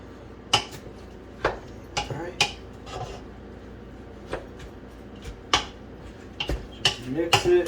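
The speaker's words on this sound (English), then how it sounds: "Just mix it. Make sure it's all revuelto." A utensil mixes shrimp ceviche in a bowl, producing sharp, evenly spaced clinks and taps with a soft wet stirring sound underneath, and some talking in between.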